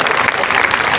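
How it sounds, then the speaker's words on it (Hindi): Audience applause at a school annual award ceremony, a brief dense burst of crowd clapping heard close and loud. "बहुत शानदार तालियां आप लोगों के लिए"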